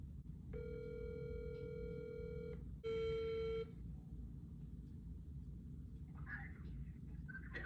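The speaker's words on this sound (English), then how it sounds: "Answer the phone." A telephone ringback tone sounds on an outgoing call to a condo owner, one long steady ring burst followed by a second shorter one, clear and close over a low steady background rumble, with faint noises afterward.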